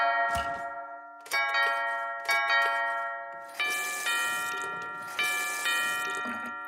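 Cartoon door chimes ring in a series of struck metallic tones, each note sounding and fading before the next, building to a brighter cluster of ringing chimes with no voices.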